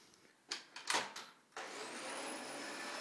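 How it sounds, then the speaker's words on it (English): A Hoover vacuum cleaner cleaning a floor: a few knocks and bumps, then the motor starts and runs as a steady, fairly faint whine with a rising pitch, no talk over it. "Let's see this hoovering."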